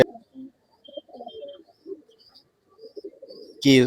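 Pigeons at a breeder's loft in Bangalore give soft, scattered coos and murmurs with quiet gaps between them, followed by a louder burst of nearby calling or flapping at the end.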